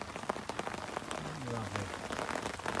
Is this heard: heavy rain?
yes